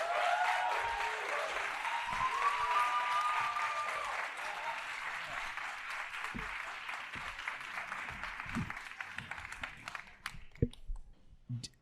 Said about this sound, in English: Can you please give a massive round of applause for Mr. Patrick Mendes?